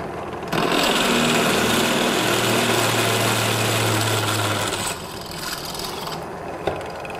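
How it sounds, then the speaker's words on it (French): A drill bores through a piece of metal with an 8 mm bit, a loud steady grinding whir with a lower motor tone running for about four seconds, then easing off to a quieter hum. "là j'ai mis la mèche de 8 mm et elle est bien alignée pour tomber dans le trou"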